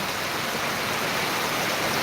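Heavy monsoon rain pours steadily over farm fields in Buldhana, a dense, even hiss of water that holds unbroken and fairly loud for the whole stretch, with no voices.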